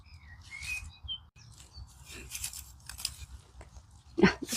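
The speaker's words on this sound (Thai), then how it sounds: "เสียงนก ร้องระรื่นหูนะคะ" Birds chirp outdoors in a fern-picking spot, with a few brief, bright chirps early on, mixed with close rustling and snapping of plant stems and a voice in the background.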